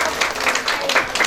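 Applause from an audience at a Mother's Day honouring ceremony, a steady, dense clapping that fills the whole moment, fairly loud and close.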